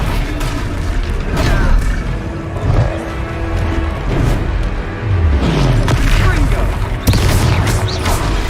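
Confringo fire spells detonating in a Hogwarts Legacy battle, a dense run of loud booms and blasts over constant combat noise, with voices calling out amid the fight.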